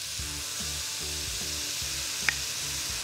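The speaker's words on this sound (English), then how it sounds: "I just want to saute that a little bit" Leek and scallion sauté in a pan with a constant soft sizzle close by, over a low rhythmic hum, with one sharp tick near the end.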